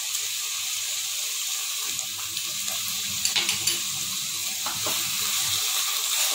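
Grated bottle gourd halwa sizzles steadily while frying in ghee in a pan, a continuous hiss with occasional scraping stirs and small clinks, fairly loud and close.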